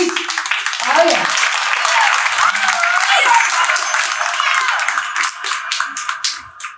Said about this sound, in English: Let's get the clap for the fairies.